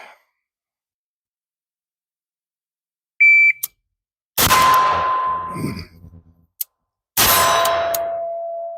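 Shot timer at a shooting range giving loud sharp electronic beeps, one short tone then two long ringing ones spaced a few seconds apart, each fading out over silence.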